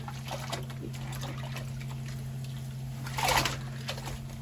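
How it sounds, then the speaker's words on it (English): A synthetic wig is submerged and moved through cold soapy water, giving soft faint trickles and gentle sloshes with a brief louder swish near the end over a low steady hum. "immerse your wig, submerge your wig."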